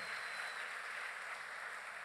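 A church congregation at a thanksgiving service applauds the Lord with steady, continuous clapping from many hands, heard at a distance and fairly faint throughout.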